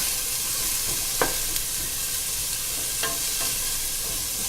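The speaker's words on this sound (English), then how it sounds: "As the onions start to soften, you want to stir them around a bit." Steady broadband sizzle of softening onions frying in a pan, with a few soft scraping clicks from stirring now and then; no voices.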